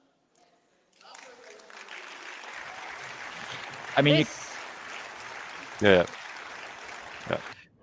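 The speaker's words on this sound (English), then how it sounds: "there's definitely some people in the parliament that are not happy with this. You can hear them shouting and booing." Members of a parliament shouting and booing during a speech, a continuous distant crowd roar under the room, with a nearby voice speaking briefly over it.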